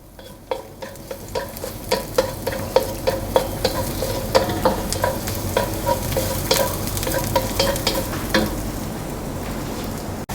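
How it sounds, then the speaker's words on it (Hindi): Garlic sautés in hot olive oil in a pan, a constant close sizzle broken by a steady run of clacking stirs from a utensil against the pan, roughly two per second. "गार्लिक को हमने करना है सौते।"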